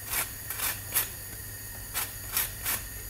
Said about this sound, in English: Go in with the zest of a lemon.